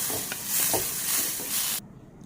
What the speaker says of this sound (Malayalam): നന്നായി തന്നെ നല്ല ഗോൾഡ് പരുവാകുന്നത് വരെ ഫ്രൈ ചെയ്തെടുക്കാം.